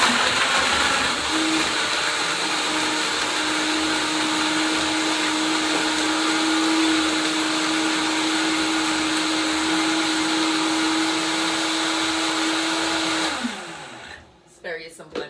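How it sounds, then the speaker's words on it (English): A Vitamix blender whirs through a shake at a loud, steady high-speed pitch, then cuts off abruptly near the end, leaving a brief rattle of settling. "So, all right, so we got the good old Vitamix."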